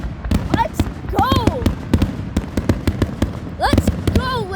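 Fireworks finale bursting close by, a rapid run of sharp loud bangs and crackles with a few whistling rockets rising between them, while people cheer and talk over the barrage.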